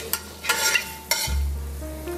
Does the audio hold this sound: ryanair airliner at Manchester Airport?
no